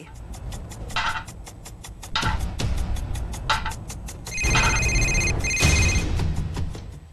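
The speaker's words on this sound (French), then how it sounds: "Le téléphone a sonné, c'était mon père." A telephone rings repeatedly in a quiet home during a tense horror story, its rapid trilling bursts close and clear over low background rumble, with no voices.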